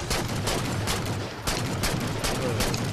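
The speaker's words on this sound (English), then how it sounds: "I think that was a grenade, yeah." Dense, continuous gunfire in the Halo 4 mission Infinity while clearing a landing zone, with a grenade bursting among the shots; loud, close and rapid, with a brief lull midway.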